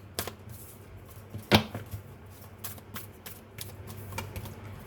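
Tarot cards being shuffled for a card reading, heard as soft rapid riffles and light taps with one sharper snap, quiet and close, with no talking.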